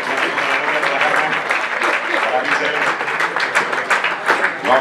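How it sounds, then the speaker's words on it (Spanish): A crowd applauds steadily at an award ceremony for the Pantortilla de Oro y Flor de Nieve 2024, dense clapping filling the room for several seconds and thinning toward the end. "Un aplauso para la gente de Requejo"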